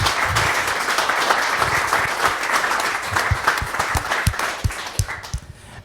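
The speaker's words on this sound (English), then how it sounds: "So I'd like everybody to give them a round of applause" Audience applause for the organizers at a Recreational Aviation Australia safety summit, a steady round of many hands clapping that thins into scattered individual claps near the end.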